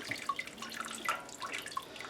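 Liquid from chicken soup simmered about an hour pours and trickles through a strainer, a close, steady splashing with scattered drips.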